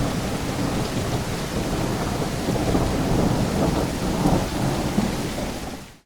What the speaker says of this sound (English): some levels actually do have rain sound effects and thunder